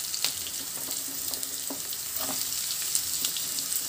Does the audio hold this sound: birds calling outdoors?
no